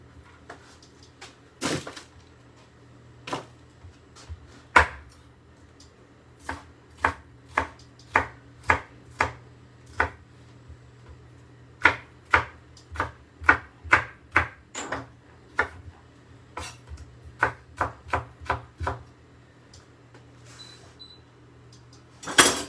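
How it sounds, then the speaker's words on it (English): A knife chops onion and pepper on a cutting board in a series of sharp, irregular taps, some quick runs and some spaced out, close and clear with no talking. "There's our onion and pepper chopped up."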